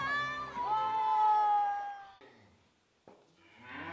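Dairy cow in a cow barn on the foothills of Mount Merbabu, Central Java, giving a long, loud moo close by, followed by quieter barn noises and a short second call at the end.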